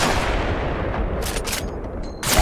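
Enemy gunfire in the battle royale shooter Apex Legends: loud, dense bursts of shots and impacts fill the whole moment, with brief sharper cracks standing out near the end.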